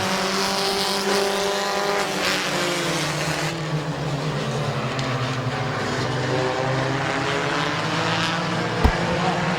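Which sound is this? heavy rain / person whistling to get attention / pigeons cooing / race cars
race cars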